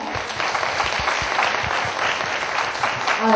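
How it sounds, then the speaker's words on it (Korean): An audience at a book concert applauds to welcome the author on stage, a continuous round of clapping that stays even and fairly close throughout. "큰 박수 부탁드립니다"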